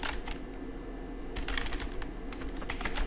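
Fingers type on a computer keyboard in quick, irregular bursts of clicking keystrokes, close and clear over a low steady background hum, with short pauses between runs.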